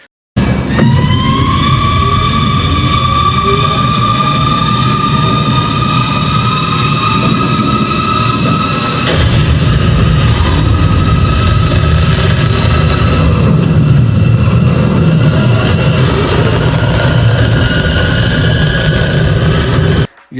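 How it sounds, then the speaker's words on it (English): A loud, sustained sci-fi vehicle sound effect for the Batmobile in the movie The Batman: a rising, whining tonal drone layered over heavy rumble, continuous for about twenty seconds with no talk. "they went out of their way to give that Batmobile a different sound, something that you've never ever heard before"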